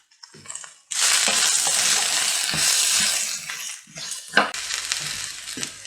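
Peppers and beans tossed into a hot pan for a cauliflower stir-fry, a sudden loud sizzle that stays crackling and hissing, with a few clattering stirs partway through.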